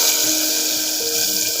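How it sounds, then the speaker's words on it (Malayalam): Tempering with curry leaves is poured into a pressure cooker of Kerala chickpea curry, a loud continuous liquid rush with a faint sizzling edge and no pause. "കുക്കറിൽ ആവി പോയതിന് ശേഷം തുറന്ന് നമുക്കത് കുക്കറിലേക്ക് ഒഴിക്കാം."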